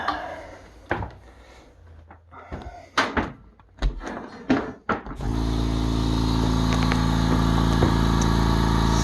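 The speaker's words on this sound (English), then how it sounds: "Sweet, sweet sound of a California Air Tools air compressor." A California Air Tools air compressor starts after a few scattered knocks and clunks, then runs as a loud, steady mechanical hum that continues to the end.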